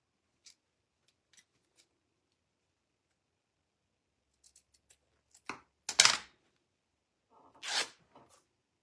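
Scissors snip at a bird statue craft kit: a few sharp, close cuts cluster near the end, with sparse soft ticks and handling noises in an otherwise quiet room before them.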